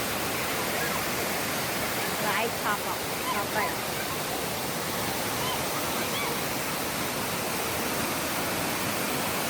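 Kothapalli Waterfalls in Andhra Pradesh roar as a steady, dense wash of falling water that fills the whole clip at constant volume, with faint bird-like chirps briefly rising above it.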